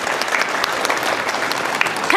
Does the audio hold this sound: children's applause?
yes